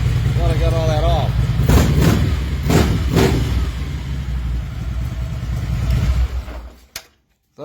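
A car engine warming up during a transmission shaft check, a steady loud idle with a few sharp revs, then a sudden cut near the end, with a person talking over it.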